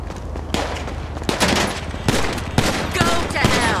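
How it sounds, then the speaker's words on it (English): Gunfire in GTA Online, a dense rattling fusillade of automatic shots with sharp individual cracks, loud and continuous throughout with background game noise. "You still can't shoot for shit, Lamar!"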